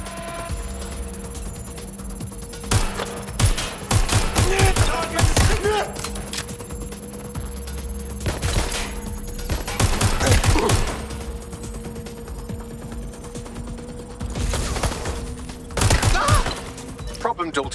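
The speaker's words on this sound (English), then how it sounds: "Someone's shooting." Gunfire in the video game Watch Dogs: Legion, several bursts of shots and impacts in separate clusters over a steady electronic hum, with game voices heard in between.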